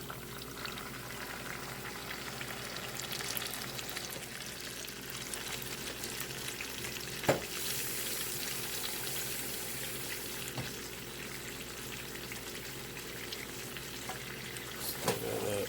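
Oxtail meat simmers with tomato paste in a pot, a soft bubbling sizzle under occasional stirring scrapes and a few sharp clinks, fairly quiet and steady with no talk.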